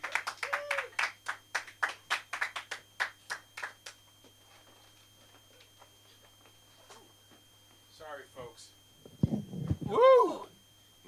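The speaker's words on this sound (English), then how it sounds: "Clap it up for our next person coming up." Audience in a comedy club claps in a steady burst of hand claps for about four seconds, then quiets before a voice whoops and cheers near the end.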